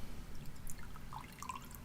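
Water drips from a ball-shaped tea steeper: a few small, faint drops plink against a steady hiss of background noise.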